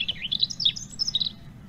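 A robin gives a quick string of bright, high peeps, about eight short notes in an uneven run, close and clear over a faint low rumble.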